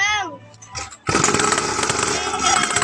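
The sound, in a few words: motorcycle engine running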